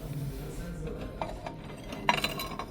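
Ceramic plates and bowls with a sandy beige glaze are handled on a JYSK store shelf, giving a few faint, scattered clinks over quiet room tone.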